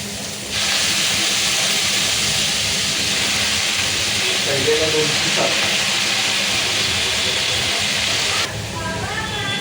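Fenugreek leaves drop into a pan of nearly cooked onions, raising a loud, steady, hissing sizzle that runs almost throughout at close range, with brief faint voice-like sounds partway.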